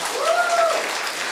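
Audience applause at a stand-up comedy show, a brief dense wash of clapping throughout, with a faint tonal sound briefly over it.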